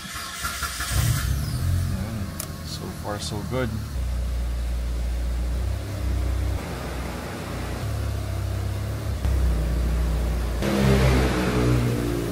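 A Mitsubishi Evo project car cranks and fires on its first start, then revs in sharp bursts and settles into a loud, close idle, with someone speaking briefly over it.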